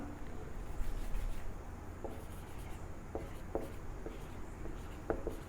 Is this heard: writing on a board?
yes